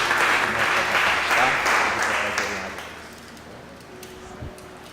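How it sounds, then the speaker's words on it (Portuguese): A church congregation applauds in a dense, loud wash of clapping that fades over a few seconds, with voices mixed in. "fiquei até constrangido agora com tanta salva de palmas"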